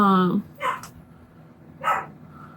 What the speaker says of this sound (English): my dog barking again